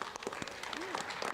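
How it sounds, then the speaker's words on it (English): Audience applauding pageant contestants at a school pageant, scattered claps from a crowd with voices and a whistle-like tone, moderately quiet. "Round of applause for our contestants."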